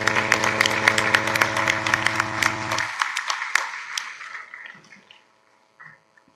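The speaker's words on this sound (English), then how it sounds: "please let us express our gratitude to him with a hearty round of applause" Dense applause from an audience at an annual management convention and awards ceremony sends off a departing chief guest. It plays over steady background music, then thins out and fades to near silence.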